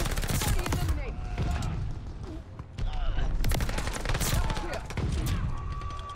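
Close and distant gunfire in Call of Duty: Vanguard bursts out in rapid automatic volleys and scattered single shots, loud and dense, with a brief lull near the middle before the firing picks up again.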